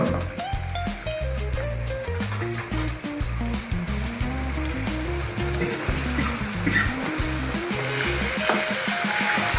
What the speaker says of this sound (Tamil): வதக்கி விட்டுட்டு தக்காளியை போட்டுக்கலாம்.